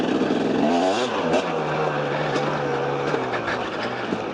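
Enduro motorcycle pulling away on a rocky trail: a loud, close engine note that revs up and then settles into a steady droning pull, continuous throughout.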